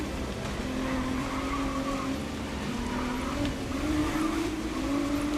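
A powerful race car in the racing game GRID Legends accelerates with a sustained, wavering engine whine, its tires squealing and skidding under a constant roar of track noise.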